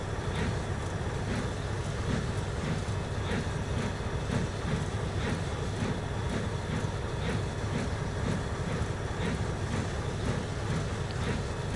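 An O scale model train, an older Varney-made engine, pulls freight cars on a layout, giving a steady continuous rolling rumble with faint regular clicks throughout, fairly close and without talk.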